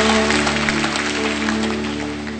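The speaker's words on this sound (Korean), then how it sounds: "감사와 영광의 박수를 한번 올려드리겠습니다." At a Sunday church service, the congregation claps in a steady burst of applause with a constant low hum running beneath, the clapping gradually easing toward the end.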